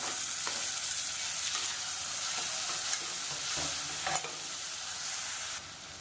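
Finely chopped tomatoes sizzling in a hot pan for a dal dinner, with a steady frying hiss and occasional scraping stirs, close and continuous with no talking.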